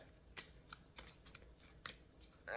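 A deck of cards riffled and shuffled in quick bursts, crisp flutters and snaps, close and fairly quiet with no talking.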